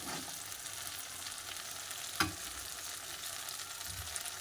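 Masala spices frying in oil in a pan for a mushroom curry, a steady soft sizzle with one sharp stir or scrape midway, close and continuous with no voices.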